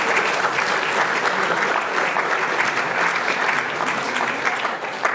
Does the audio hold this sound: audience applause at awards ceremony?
yes